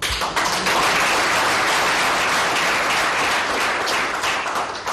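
A crowd at a formal ceremony honouring Olive Lembe in Kinshasa applauds, a loud, sustained wash of clapping that holds steady for about five seconds.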